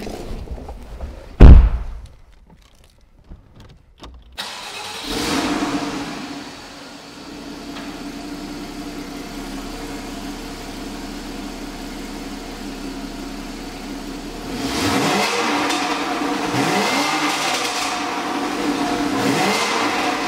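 A 2014 Porsche Cayman starts up nearby with a door thump and a sharp crank, then settles into a steady idle before several rising revs near the end.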